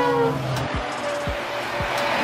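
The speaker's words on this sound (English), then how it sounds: "Diesel train. This type of train is powered by a diesel engine instead of running on electricity." A diesel train rumbles along the line with a steady low engine drone, punctuated by three evenly spaced low clunks of wheels crossing rail joints, plus a faint higher tonal whine.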